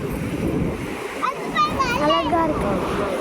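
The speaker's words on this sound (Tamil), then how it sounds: "எவ்வளோ அலை நல்லா வருது" Ocean waves splash and wash onto a beach, a rushing surf noise under close voices of adults and someone talking over it.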